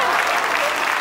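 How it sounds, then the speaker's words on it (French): A brief burst of dense audience applause at a live magic show, steady and loud throughout, with no voices standing out. "Je pense qu'on peut l'applaudir très très fort."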